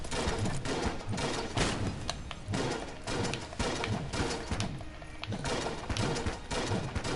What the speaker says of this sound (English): The shotgun sure makes a weird sound.